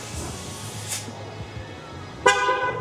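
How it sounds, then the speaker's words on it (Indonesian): A Hella Fury horn fitted to a Honda Jazz sounds one loud, close, bright blast late on, after a low steady hum inside the car. "Udah pakai Hella Fury. Ini sih bunyinya sip, kenceng."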